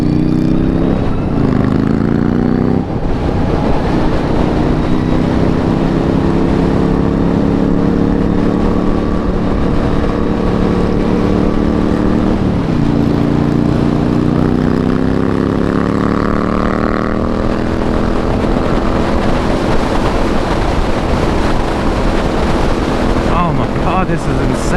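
Heavy wind noise buffets the microphone while riding a 2020 Harley-Davidson LiveWire electric motorcycle, a loud constant roar with no engine sound, shifting whine-like tones rising and falling as speed changes through corners.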